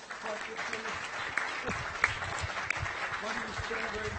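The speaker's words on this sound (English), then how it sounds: "Let's have a round of applause for Bryce" Applause for Bryce rises from an audience, moderate clapping with a few sharper individual claps standing out and a voice briefly heard underneath.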